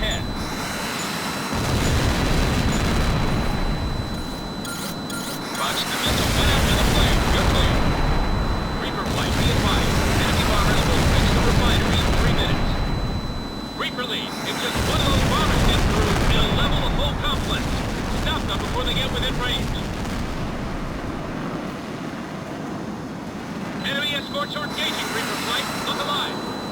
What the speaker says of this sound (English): Launch the missile.